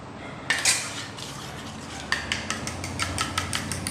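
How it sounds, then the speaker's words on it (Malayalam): A spoon stirs a hair pack of onion, cooked hair oil and water in a small bowl, making quick close clinks and scrapes against the sides in a busy run after a soft start. "ഇത് നന്നായിട്ട് മിക്സ് ചെയ്യാം"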